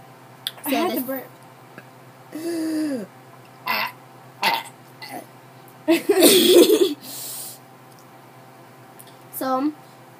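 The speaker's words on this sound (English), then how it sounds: "I had to burp." A person burps up close several times, in short throaty bursts separated by quiet gaps, one louder and longer than the rest.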